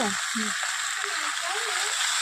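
Fish sizzles in hot oil in a pan, a dense steady frying hiss throughout, with a voice talking briefly over it.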